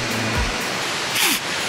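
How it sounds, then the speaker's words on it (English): A waterfall seen on a cool wooded hike pours in a steady, loud broadband rush, close by and with no talk over it. "The waterfalls are beautiful"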